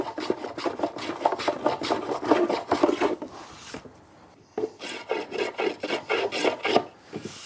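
A rasp works along the grain of a blackwood piece in quick, rhythmic scraping strokes, close and clear, with a short pause partway through before the strokes resume.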